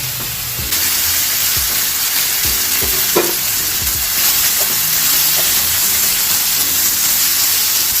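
Meat sizzles steadily in a pan with no added oil, a loud continuous frying hiss with occasional stirring scrapes, close up and without talk.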